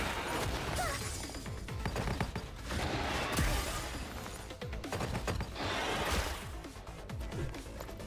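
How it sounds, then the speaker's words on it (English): Explosions and gunfire in the video game Girls' Frontline 2: Exilium, a dense burst of crashing blasts, shattering impacts and rapid shots in close succession with game music underneath. "Explosions everywhere."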